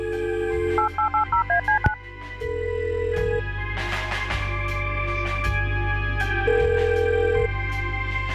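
Telephone keypad dialing in the Kathy Rain video game: a quick run of evenly spaced beeping tones, followed by sustained electronic game music and a few pops.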